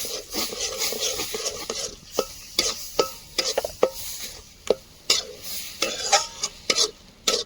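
Mustard paste being stirred in a pan until dry, with repeated sharp spoon scrapes and knocks against the metal over a soft, steady sizzle, close and fairly clear, no talking.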